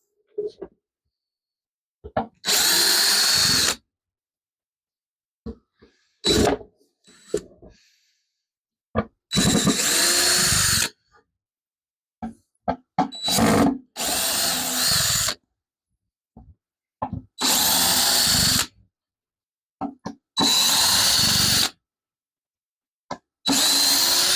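A power drill backs screws out of a wooden scroll saw stand in a workshop, with about seven loud whirring bursts of a few seconds each separated by silences, clicks and handling noise, plus a little talk in between.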